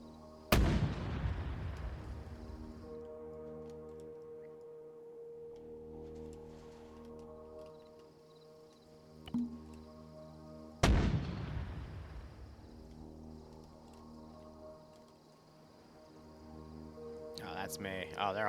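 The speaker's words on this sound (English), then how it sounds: "we have audible on mortars east of OP2 as well" Video game mortar and artillery fire: two heavy booming impacts about ten seconds apart, each ringing out in a long decaying tail, with quieter battlefield noise and radio chatter in between.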